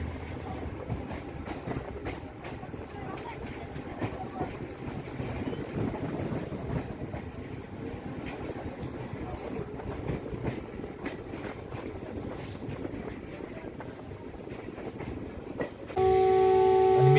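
A DEMU passenger train rumbles steadily with rhythmic clatter of wheels on track as it departs Rukdi railway station on the Kolhapur–Miraj line, rolling along continuously, followed at the end by a loud blaring horn.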